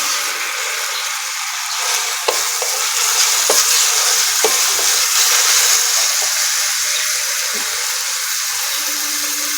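Chopped tomato sizzling in a hot pan for a soybean curry, a steady loud frying hiss with a few light clinks of a spoon stirring, no talk.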